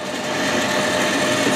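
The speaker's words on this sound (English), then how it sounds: "So I'm drilling the top of that quarter width" A small drill bit boring into the top of a quarter-width workpiece held on a mini lathe, giving a steady, close, even whirring and grinding hum with no pauses throughout.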